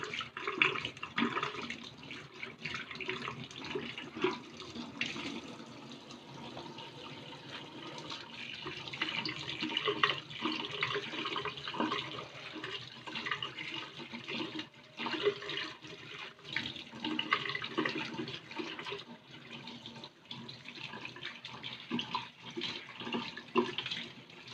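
Tap water runs steadily into a kitchen sink as vegetables are washed, a continuous close splashing hiss with small clatters and shifts in the flow, no voices.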